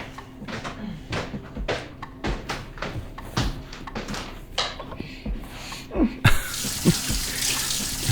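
Tap water runs steadily into a sink while things are washed under it, a close, continuous splashing hiss with scattered knocks and clatters, ending in a sharper burst of running water.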